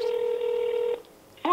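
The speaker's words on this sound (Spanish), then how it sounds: "vamos a llamarla." Mobile phone dialing tones, a steady dual-tone beep held for about a second, loud and close, then a short gap before another sound starts.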